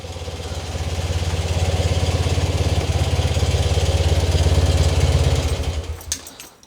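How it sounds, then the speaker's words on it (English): A 1975 BMW R60/6 motorcycle engine idles steadily and close for several seconds with an even low thrum, then is switched off and dies away, followed by a few small clicks. "What a nice sounding and looking bike."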